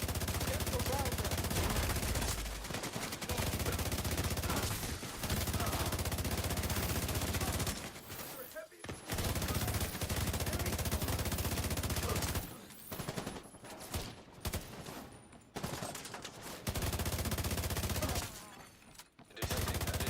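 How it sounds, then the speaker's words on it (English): Rapid automatic gunfire in The Division 2 combat, long sustained loud bursts broken by short pauses, with player voices talking over it. "Returning fire."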